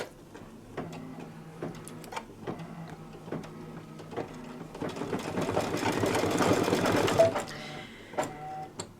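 An embroidery machine stitching the nose on a Santa table runner clicks in a fast regular rhythm, its whirring swelling louder and busier midway before easing back to separate ticks.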